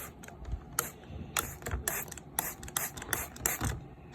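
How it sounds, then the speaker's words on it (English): Repeated quick hissing bursts of a spray bottle, several pumps in a row, close and crisp. "get my little spray bottle. And I'm just gonna spray"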